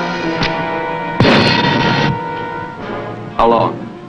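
A WWII submarine firing torpedoes: a few sharp, loud bursts of hissing, rushing launch noise separated by brief pauses, with a voice giving commands in between.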